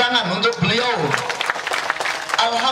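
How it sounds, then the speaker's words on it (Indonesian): An audience at an agricultural working visit applauds a speaker, with scattered claps rising under a voice that carries on over the clapping. "Tepuk tangan untuk beliau."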